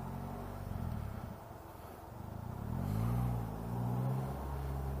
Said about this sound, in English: It sounds like your stereotypical 4-cylinder of today